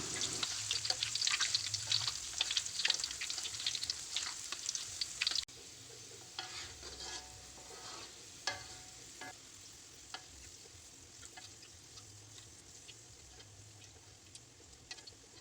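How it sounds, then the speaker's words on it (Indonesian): Shallots frying in hot oil until browned, a busy crackling sizzle that is louder at first, then drops to a quieter, steady bubbling hiss with occasional pops and stirring. "Kemudian goreng hingga kecoklatan, angkat dan tiriskan."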